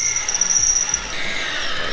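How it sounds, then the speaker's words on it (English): Power drill boring through a metal sprocket during a DIY electric pit bike build, a steady close whine with a high tonal pitch that shifts partway as the drill slows under friction, with no talk. "when we were just drilling, we had a little bit of issue with the drill slowing down a lot because of the friction"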